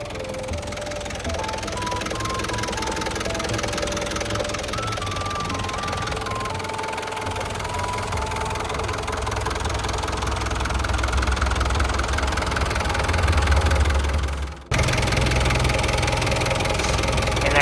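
A Hino W04D four-cylinder turbo diesel engine on a 1997 Tadano TR-100M-1 crane truck idles steadily and close by, a low rumbling drone with rhythmic knocking that swells slightly before a brief dip and resumes.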